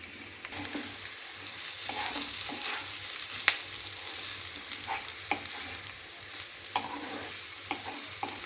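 Steady sizzling in a pan with scraping, clinking stirring strokes at irregular intervals as soaked oats are mixed into fried vegetables, close by; no voices.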